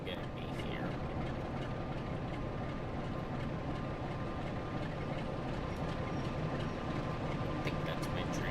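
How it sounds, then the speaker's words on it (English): A freight train pulls into a station platform on the West Coast Main Line North in Train Sim World 5, with a steady, dense rumble of rolling wagons that holds at an even level throughout. "I think that's my train."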